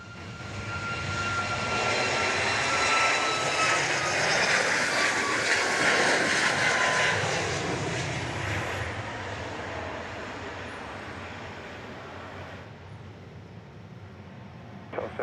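An airliner's jet engines roar through takeoff at Dallas Love Field. The loud, sustained rumble builds, holds steady, then slowly fades as the aircraft climbs away, with no talk over it.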